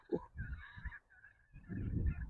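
Turkeys squabble during a hike, giving loud, close honking gobble-like calls in two bursts separated by a brief quieter gap, with no talking.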